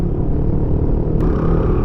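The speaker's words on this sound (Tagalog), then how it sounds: "Grabe yung andar ng makina." The loud, deep engine of a heavily loaded vehicle on a rainy mountain road in Miagao, Iloilo drones steadily at close range, a heavy low rumble that holds without letting up for the whole short stretch.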